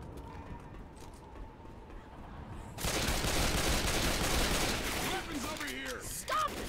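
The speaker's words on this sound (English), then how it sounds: "I don't mind if you keep shooting me" Gunfire in the Left 4 Dead 2 video game as a teammate shoots: after a quieter stretch, dense, loud, sustained rapid-fire bursts erupt and keep going, with faint voices in the background.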